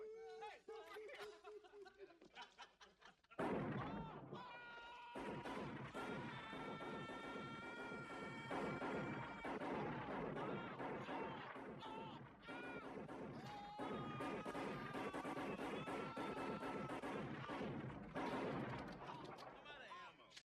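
Gunfire blasts in an action scene from the RoboCop film, loud, rapid shots crackling over music and shouting voices through most of the stretch.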